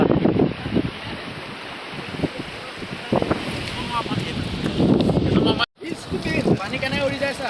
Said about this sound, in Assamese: বতাহ পুৰা মাৰি আছে চব পানী কেনেকৈ উৰিছে